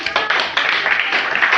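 A church congregation claps for Jesus in a dense, continuous wash of hand claps, loud and close, with no clear individual rhythm, filling the short moment between preaching.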